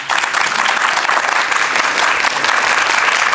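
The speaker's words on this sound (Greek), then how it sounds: "χειροκρότημα!" Loud, steady applause from a studio audience at a Greek comedy show, dense and continuous clapping throughout without a break.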